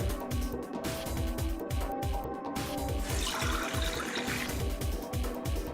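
Liquid is poured down a drain in Zero Escape: Virtue's Last Reward, a soft watery splash that swells briefly midway, set against a steady, rhythmic background music track.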